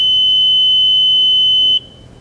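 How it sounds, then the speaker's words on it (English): A FIMAKS weighing system sounds its long alarm, a loud, steady, high-pitched electronic beep that holds for nearly two seconds and then cuts off abruptly, leaving faint background hiss. "This one goes straight to the long alarm"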